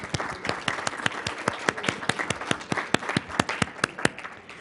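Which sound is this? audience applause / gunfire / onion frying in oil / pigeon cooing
audience applause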